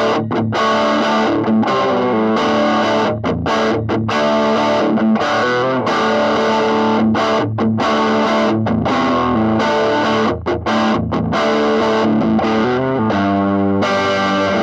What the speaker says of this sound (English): The dirty tones come from a Marshall